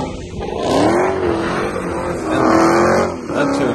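Dodge Hellcat engines rev and rise in pitch in sustained loud surges while drifting at a zoo, the pitch climbing in two long sweeps with a faint tire hiss mixed in.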